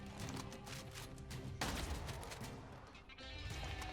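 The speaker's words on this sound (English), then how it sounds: "Why did you survive a shotgun blast?" Shotgun blasts in the first-person shooter Immortal Redneck, a rapid string of sharp, booming shots amid dense combat noise, with one heavier blast standing out midway; no voices.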